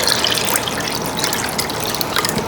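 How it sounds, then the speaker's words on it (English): Water pours steadily into a cheap blender holding paper pulp while handmade paper is being made at home. It makes a continuous, close trickling and splashing hiss with no talk. "Normally, I also like to put more water."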